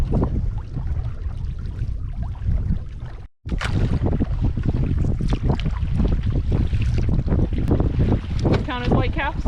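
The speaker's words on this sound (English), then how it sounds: "it's been a while since I've paddled a heavy canoe" A heavy canoe being paddled on windy, choppy water, with steady wind buffeting over the splash and slosh of the strokes, continuous and close, briefly cut off near the middle.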